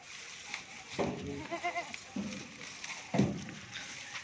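Goats and young kids on a goat farm give a few bleats and bursts of bustle while being loaded for transport. The bleats rise, fall and recur in uneven bursts at close range, with handling noises between them.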